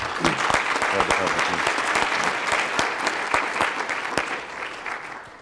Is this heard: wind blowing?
no